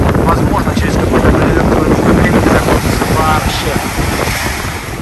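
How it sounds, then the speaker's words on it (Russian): Strong wind blowing across the Black Sea shore at Lazarevskoye, Sochi, a loud continuous rumbling gust on the microphone with the low roar of surf beneath. "На самом побережье дует такой вот ветерочек."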